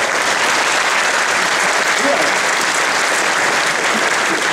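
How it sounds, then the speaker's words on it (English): An audience at an Islamic faith lecture breaks into loud, sustained applause, a dense and steady wash of clapping that lasts throughout with no pauses. "You can clap, it's okay."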